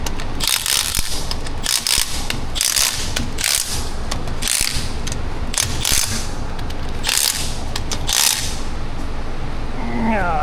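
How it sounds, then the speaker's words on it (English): A quarter-inch drive ratchet clicks rapidly in repeated bursts while working on the rear axle of a Ram 1500 pickup, loud and close, with steady shop noise underneath and brief speech. "Will you grab me a ratchet?"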